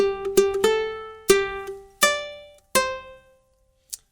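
A ukulele plucks six bright notes of the birthday tune's second line, unhurried and ringing, ending with a faint click.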